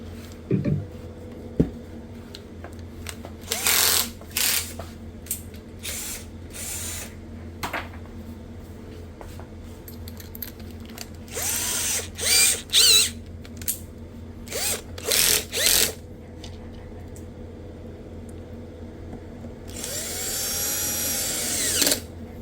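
A power screwdriver tightens screws while a speaker is being reassembled, giving repeated short whirring bursts of one to two seconds, separated by pauses and faint handling noise, close and loud, with no talking.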